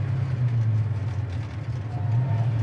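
A 1969 Plymouth Roadrunner with a 383 V8 drops into third gear, its engine giving a deep, steady rumble that dips briefly and then swells back, heard close and loud with no talking.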